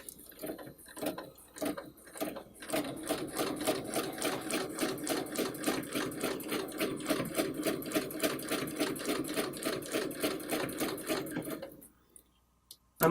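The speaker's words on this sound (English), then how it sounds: "I'm going to stitch the other half of the heart" Sewing machine stitching a heart quilting pattern guided by a ruler template, several short stop-start bursts giving way to a long steady rhythmic stitching run that ends abruptly near the end.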